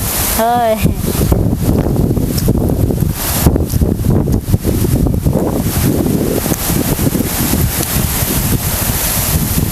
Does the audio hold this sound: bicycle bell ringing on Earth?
no